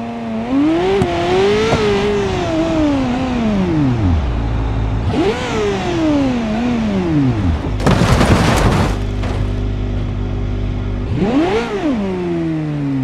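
McLaren car in BeamNG Drive roars through repeated engine revs that rise and fall, with a loud crunching crash burst in the middle, all close and prominent without talk.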